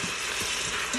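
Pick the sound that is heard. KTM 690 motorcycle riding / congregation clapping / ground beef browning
ground beef browning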